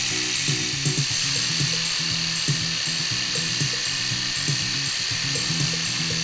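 A single-motor micro flying machine's tiny rotor spins with a loud, steady, high-pitched whine throughout, close by, with faint irregular low pulses underneath and no speech.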